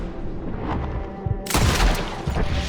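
Gunfire booms in the video game Red Dead Redemption 2, a rumbling bed of shots that breaks into a loud, close volley of blasts halfway through.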